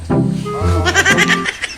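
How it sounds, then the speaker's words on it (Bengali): A goat bleats loudly and close by as it is taken to market, a single wavering call of about two seconds with no talk over it. "হ্যাঁ ওই ছাগল লয়ে যাইতেছি বাজারও"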